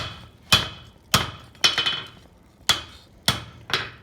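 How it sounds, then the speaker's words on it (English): Six sharp metallic hammer strikes on hot leaf spring steel over an anvil ring out at an irregular pace, each bright impact followed by a short ringing decay. "You can turn it upside down and hammer these bits out."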